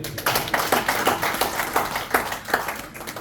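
A small church congregation claps in a fairly regular rhythm, close and moderately loud, with distinct individual hand strikes rather than a dense roar.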